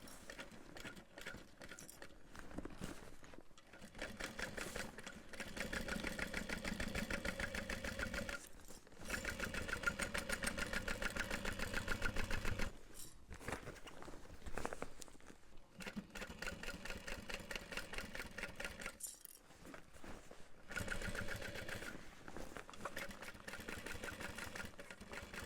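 A sewing machine stitches binding onto a backpack seam in a run of steady, buzzing bursts separated by short pauses, close and fairly loud with no talking.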